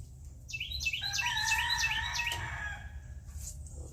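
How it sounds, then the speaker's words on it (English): Several roosters crowing outdoors at a bonsai workspace, overlapping calls rising and falling, moderately near over a low background hum, with no talk. "Roosters are in full force today, as always."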